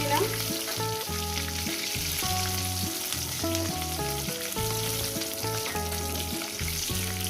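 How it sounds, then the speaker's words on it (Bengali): Fish fries in a pan with a continuous sizzling hiss that runs beneath louder background music with distinct melodic notes, steady from start to finish. "বাদবাকি মাছগুলো দিয়ে দিলাম বন্ধুরা এগুলো ভেজে নিচ্ছি"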